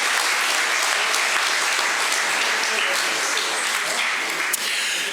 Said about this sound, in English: let's give them both a wonderful round of applause and wish them well for the future.